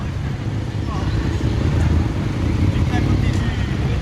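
Motorcycles, including a flat-engined BMW R60/7, roll into a classic car show in Bletterans, a steady low engine rumble with wind noise running throughout, moderately loud and fairly close.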